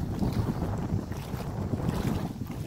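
Strong wind buffets the open sea around a small fishing boat. The gusts roar loud and close into the microphone, masking the water beneath.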